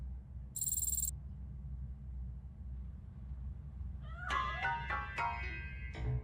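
A cat in the game Robocop Rogue City lets out a short burst of rising and falling meows near the end, fairly clear against a quiet low hum with a brief high electronic tone earlier; no speech.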